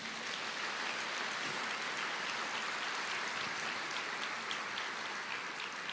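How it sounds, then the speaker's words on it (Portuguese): A church congregation claps together in a steady, even patter, fairly faint and distant, continuing without voices for the whole stretch. "Vamos aplaudir ao Senhor, gente."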